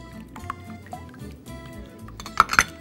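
Liquids and coconut oil are poured into a mixing bowl for a light apple-slice cake, with soft trickling and dripping, then a couple of sharp clinks of a container against the bowl near the end, close and quiet.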